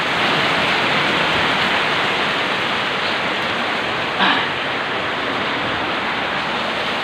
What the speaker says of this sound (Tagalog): Parang hindi na natatapos ang ulan.